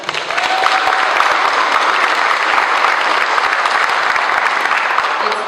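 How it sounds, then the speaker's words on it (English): Audience at a law enforcement salute event applauding, a dense, loud, sustained wash of clapping that fills the room from start to finish with no break. "I want to give him a round of applause for doing that."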